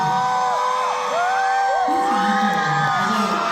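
At a K-pop concert in Seoul, a large crowd cheers loudly and continuously, with high shrieks and whoops rising and falling over a dense roar.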